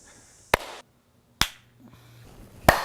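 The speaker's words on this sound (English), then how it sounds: "Do you need the clap?" Three sharp, isolated hand claps, loud and close in a quiet room, spaced about a second apart, made as a sync clap for film footage at Silo Theatre.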